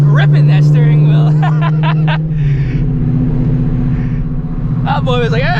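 A loud car rumbles past close by, its engine noise swelling and then fading, with someone talking over it and laughing.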